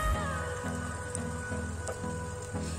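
Chopped onion hits hot mustard oil in a kadai, giving a steady, dense sizzle that crackles evenly throughout, close and fairly loud, with no talking.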